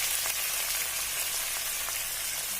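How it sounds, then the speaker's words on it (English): Finely chopped onions frying in hot oil over a fried spice paste for mushroom masala, a steady close sizzle with a dense crackling hiss throughout and no voices. "To that I'm going to add these chopped onions."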